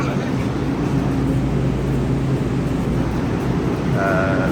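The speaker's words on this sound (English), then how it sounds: "There's a train right there. People are hopping onto the train." A train rumbles steadily in a New York City train station, a loud continuous low roar filling the platform, with a brief higher tonal signal near the end.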